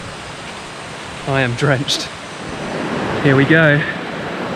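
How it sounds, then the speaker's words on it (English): A river in the Sumatran jungle rushes as broad steady noise, moderately loud and continuous, while a person speaks briefly over it twice. "I can hear the river coming."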